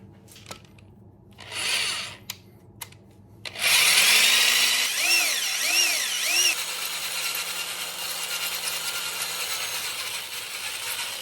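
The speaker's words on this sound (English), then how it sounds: "this is the scary part of the job, where you're gonna have to drill into your crank" Power drill boring into the crankshaft of an LS engine in a home garage, a few short taps first, then a loud sustained drilling whine that rises and falls in pitch before settling into a steady grind.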